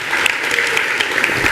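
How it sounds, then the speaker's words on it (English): Audience at an industry panel event claps for a panelist, a dense, steady round of applause from a full room, close and loud throughout with no voices over it. "Ladies and gentlemen, let's give this industry titan a big round of applause."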